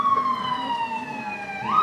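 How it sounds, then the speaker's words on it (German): An ambulance siren passes nearby, loud and wailing in long sliding tones that fall and then climb again. "Das ist ein Krankenwagen"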